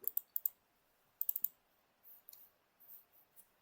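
Faint bursts of quick clicking as a computer keyboard spacebar is pressed repeatedly: a cluster of four presses, a pause, another cluster, then softer scattered taps, with no talking.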